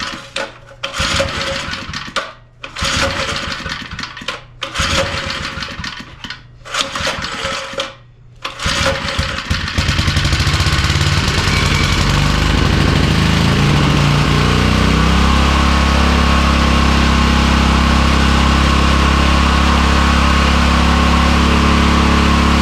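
A small two-stroke lawn edger engine sputters and cuts out repeatedly at first, then catches after a fuel mixture screw adjustment and runs loud and steady, climbing to a sustained high whine.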